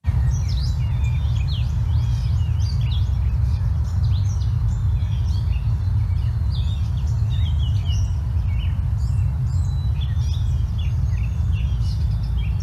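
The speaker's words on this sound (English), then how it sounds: "So all of that stuff was basically one bird singing there." A bird sings a long, varied song of quick chirps and trills, fairly faint over a loud, steady low rumble of background noise, with no talking.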